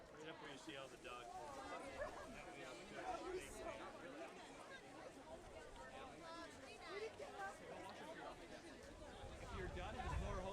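Dogs barking and yipping amid crowd chatter at an outdoor corgi race, the barks scattered and mixed into steady background babble and talk.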